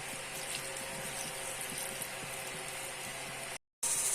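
Water is poured into spices for grinding, a steady running splash with faint clicking underneath, then cuts out briefly near the end before resuming.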